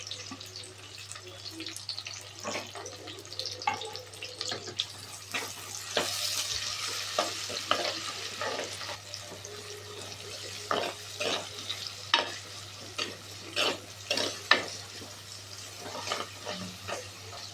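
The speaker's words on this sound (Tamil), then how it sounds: "இப்போ நம்ம கட் பண்ணி எடுத்துருக்கிற வெங்காயத்தை ஆட் பண்ணிக்கலாம்." Chopped onions frying in hot oil in a pan, with a constant soft sizzle broken by frequent scraping stirs of a spatula, close by and without talk.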